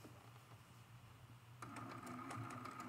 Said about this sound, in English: I'm just going to take a couple tiny, tiny little lock stitches, and we're going to start quilting.